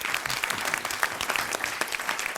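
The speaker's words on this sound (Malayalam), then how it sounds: "മേശിരിക്ക് നല്ലൊരു കയ്യടി" A studio audience at a Malayalam comedy stage show claps together in a dense, steady round of applause that stays fairly loud from start to finish.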